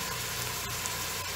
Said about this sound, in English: You allow the onions to cook a bit in the oil.